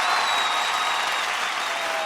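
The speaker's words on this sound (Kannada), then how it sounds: "ಸೊ ಬರ್ಲಿ ದೊಡ್ಡ ಚಪ್ಪಾಳೆ ನಮ್ಮ ಮಜಾ ಭಾರತದ" An audience claps loudly and steadily at a television comedy show's grand finale, dense continuous applause from a crowd, close and unbroken.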